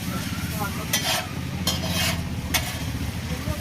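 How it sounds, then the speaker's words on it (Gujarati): Onion and garlic paste frying with garam masala and coriander-cumin powder for pav bhaji, a steady close sizzle broken by a few sharp scrapes of a spoon or spatula against the pan. "ડુંગળી નાખ્યા પછી લસણ નું પેસ્ટ નાખી દેવાનું. ગરમ મસાલો નાખવાનો, ધાણા જીરું આટલું નાખીને થોડુંક હલાવી વાળવાનું"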